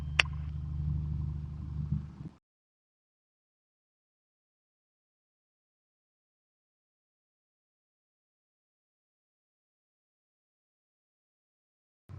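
A Piper Cherokee Six piston engine on takeoff from runway 21 left at Sedona gives a loud, steady rumble for about two seconds. The sound then cuts off into silence, with no talk.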